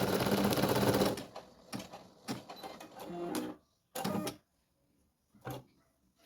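Embroidery machine stitching a design on fabric held in a 13x18 cm hoop, a dense rapid mechanical chatter at first that breaks into short bursts separated by quiet gaps.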